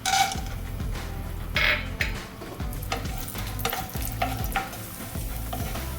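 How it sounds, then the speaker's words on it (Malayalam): Chopped cashew nuts fry in ghee in a pan for poha laddu, a loud nearby sizzle broken by repeated scraping stirs and light metal clinks against the pan, with no speech. "കാഷ്നട്ട് ഇവിടെ ഫ്രൈ ആയിട്ട് വന്നിട്ടുണ്ട്"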